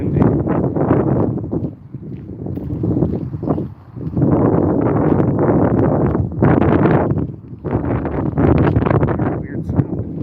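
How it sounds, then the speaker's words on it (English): Gusty wind buffets an outdoor microphone in loud, uneven bursts of rumbling noise with short lulls between them, on a street walk near a convenience store; no speech is heard. "Yeah, it's a little windy."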